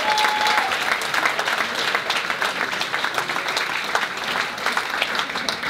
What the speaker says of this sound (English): So come on, round of applause.